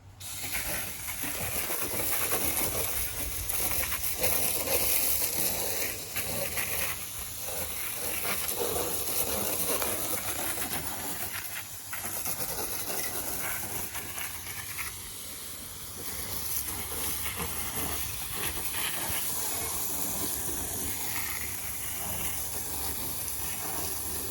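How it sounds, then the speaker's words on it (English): Water spray rinsing mud off two mountain bikes makes a continuous, fairly close hiss that holds steady for over twenty seconds with small shifts in intensity and no talking. "quick little rinse. That got most of the mud off on both of the bikes"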